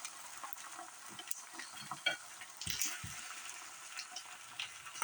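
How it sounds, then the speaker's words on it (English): An egg frying in a pan for a bacon, egg and tomato sandwich, a faint steady sizzle with soft scattered pops and a few light clicks, no voices. "I'll drop the egg on and let the egg cook."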